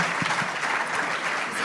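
A short burst of audience applause for a Nigerian vice president at a formal dialogue event in Abuja, dense even clapping from a large crowd lasting under two seconds.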